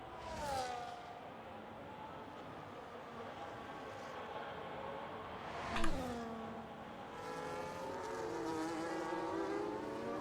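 A race car in a racing video game exiting the pits at the Hungary round on fresh hard tyres, engine notes rising and falling through gear changes with a brief louder pass, fairly faint and steady.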